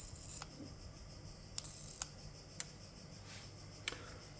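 A sailing sheet line on a dinghy being cut, several sharp snips spaced a second or so apart over a quiet, low hum, close and faint, no talk.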